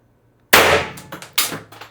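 Two sharp, loud air pistol shots from an 8g AR Tactical Joules CO2 cartridge, with a pause of about a second between them, each a bright crack with a short ringing decay.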